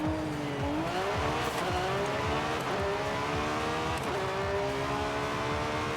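A Lamborghini engine in the video game Forza Horizon 5 revs hard and loud, its pitch climbing and dipping through gear changes in a continuous high-performance roar.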